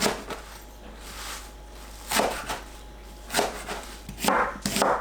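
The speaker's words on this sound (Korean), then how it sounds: "깻잎을 반 자르고 2, 3등분 해서" A knife cuts perilla leaves on a cutting board, halving them and chopping them into large pieces, with a few sharp, separate chopping taps spread across the clip.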